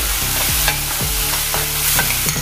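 Spice paste fries in hot oil while a spoon stirs it, giving a close, loud, continuous sizzle broken by rhythmic scraping strokes roughly every half second.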